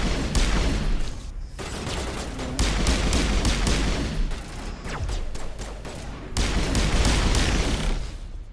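Sustained gunfire in Mass Effect Legendary Edition, with squadmate Ashley firing her weapon: dense overlapping bursts and booms roll on continuously at close range, loud throughout with only brief dips.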